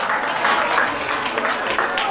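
A crowd claps steadily to welcome a guest at the closing and honours ceremony of an education camp in Maujpur, Delhi, a dense, even patter of hands lasting the whole moment.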